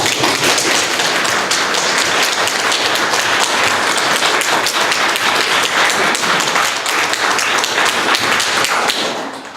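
Sustained applause from an audience at a talk on Brexit after the election, dense steady clapping that fills the room for several seconds before tapering off at the end.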